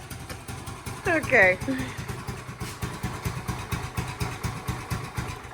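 Homemade three-wheeler engine idling nearby in a garage, a lumpy, pulsing putter that keeps a steady beat, briefly overlaid by a person speaking.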